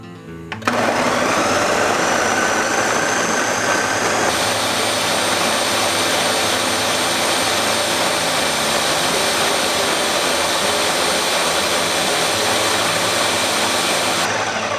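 A blender purees fermented hot sauce, starting abruptly and then roaring loud and steady at a high whine for the whole stretch, with a slight shift in pitch partway through.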